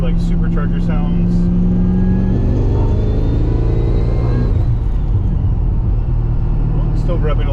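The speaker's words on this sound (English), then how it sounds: "somebody asked for like supercharger sounds" A supercharged Pontiac GTO under way, engine rumbling loudly up close with a rising whine that climbs as it pulls, then eases off as the revs drop.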